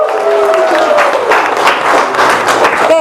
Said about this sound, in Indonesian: Beri tepuk tangan untuk Adel.